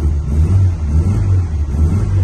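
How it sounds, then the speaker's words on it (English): A 1989 Austin Mini Sky Rose engine idles and revs lightly, a loud, close, low-pitched rumble that swells and eases slightly, with no voices. "it does sound a sweet little engine."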